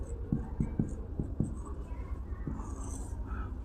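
Someone writes during a chemistry lecture on chain isomers, a short run of sharp, close strokes followed by a pause and one more stroke, over a steady low room hum.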